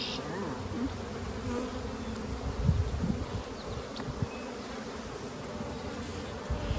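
Honey bees buzz steadily in an open, well-balanced hive full of honey, pollen and young larvae, a dense continuous hum close by with small rises and no talk.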